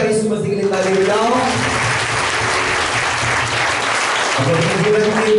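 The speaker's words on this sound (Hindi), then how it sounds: "जोरदार यीशु मसीह के लिए ताली बजाओ।" A church congregation claps loudly and continuously in sustained applause during a service, with a preacher's voice carrying over it.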